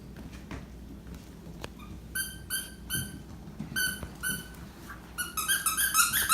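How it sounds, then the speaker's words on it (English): A green squeaky dog toy is squeezed by the head again and again, giving bursts of high, shrill squeaks in quick clusters, growing busier toward the end over quiet background shuffling. "That green one, if you squeeze the head, it squeaks."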